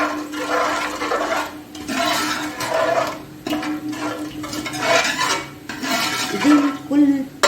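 Yogurt being stirred in a cooking pot over low heat while making masala beef pulao, with steady scraping and sloshing strokes and occasional utensil clinks, close and continuous with no talk.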